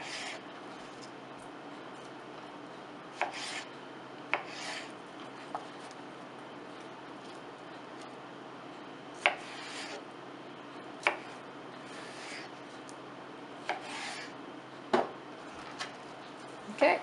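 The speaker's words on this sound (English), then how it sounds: "we're going to cut it into thin strips" A knife slices tabouli salad ingredients into thin strips on a cutting board, giving faint, sharp taps spaced irregularly a second or two apart over a quiet room hum.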